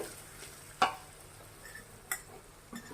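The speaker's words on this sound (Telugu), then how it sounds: "ఇక్కడ ఇప్పుడు కలిపేస్తా రైస్ దీంట్లోకి." Rice is stirred into hot oil in a pan for mango rice, with a few soft scrapes and taps of the spoon over a faint, low sizzle.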